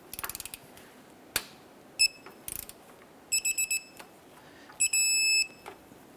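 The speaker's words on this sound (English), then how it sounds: "Let's torque down our 2 shock bolts to 37 foot-pounds." A torque wrench tightens the front shock bolts on a 2015–2020 Cadillac Escalade, with quick ratcheting bursts followed by several sharp electronic beeps marking the set torque, one long tone near the end, all close up.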